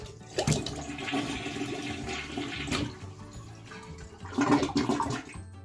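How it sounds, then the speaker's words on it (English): A household toilet with an overflowing tank is flushed, giving a loud rushing gurgle followed by steady water refilling the tank and bowl, with a second surge of flowing water near the end. "I'll try to flush"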